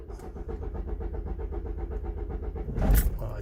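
A diesel car with a Delphi injection pump and 111,000 km runs with a steady, rhythmic idle chug, loud and close, swelling briefly near the end as the engine catches and revs slightly.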